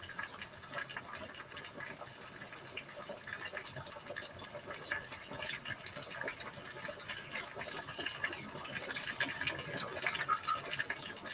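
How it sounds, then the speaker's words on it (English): Spring water drains from a can of tuna in a steady, faint trickle that runs unbroken for several seconds. "I'm just draining the water. This is tuna in spring water."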